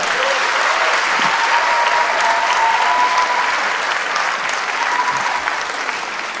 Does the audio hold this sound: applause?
yes